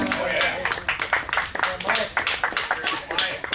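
Festival audience applauding at Krazfest 2016, a dense wash of hand claps with scattered louder bursts, steady throughout under a lively crowd.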